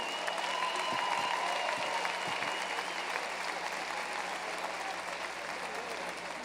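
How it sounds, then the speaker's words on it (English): Sustained applause from a large audience at a state Republican party organizing convention, a dense, steady wash of many hands clapping at moderate distance with faint crowd murmur, continuing without a break. "please give a round of applause to the people who need it most"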